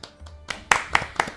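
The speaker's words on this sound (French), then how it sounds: "on s'applaudit." A few people clap together in a small room, a short burst of a handful of sharp, close claps in an uneven rhythm, with a little talk around them.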